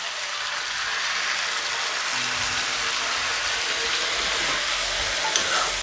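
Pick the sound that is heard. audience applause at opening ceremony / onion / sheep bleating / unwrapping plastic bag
onion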